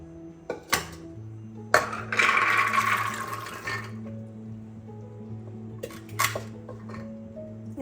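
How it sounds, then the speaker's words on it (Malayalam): Soaked white chickpeas are tipped into a metal pressure cooker, first a few knocks, then a rushing pour of peas and water lasting about two seconds. A low steady hum runs under it, with a few clinks of metal afterward. "ഇനി നമുക്കിത് കുക്കറിൽ ഇട്ട് കൊടുക്കാം"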